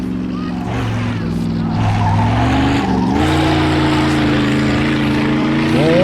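A car engine drones steadily in the Mafia II video game, with tones rising and shifting as it drives, loud and continuous, with someone talking briefly over it.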